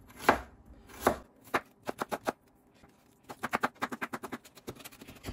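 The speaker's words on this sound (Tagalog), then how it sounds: "Tapos sa ginger, mince rin. Pero hiwain muna natin." Ginger minced with a knife on a cutting board for pininyahang manok sa gata, a couple of heavy chops followed by quick bursts of rapid, even knocks, close and clear with no talking.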